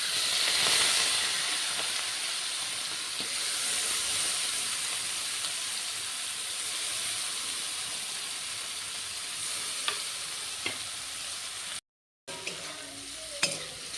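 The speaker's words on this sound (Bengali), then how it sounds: "এখন আমি চিংড়ি মাছগুলো ভেজে নেব" Prawns coated in salt and turmeric fry in a wok with a steady, close sizzle and hiss. Occasional light stirring clicks break through, and the sound drops out briefly near the end.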